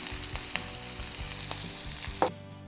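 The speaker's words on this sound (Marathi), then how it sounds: "आता हा कांदाही चांगला परतून घ्यायचा" Onion frying in a pan for shevai upma, a steady close sizzle with light stirring scrapes and a sharper clatter near the end, no talk.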